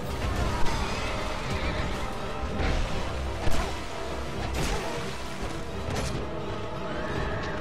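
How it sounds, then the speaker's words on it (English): A horse in the Dark Souls II video game neighs and charges, its whinny mixed with crashing impacts and swooshes in a busy, loud game soundscape with no talk. "The horse is gonna charge me."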